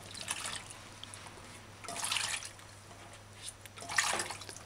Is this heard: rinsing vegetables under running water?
yes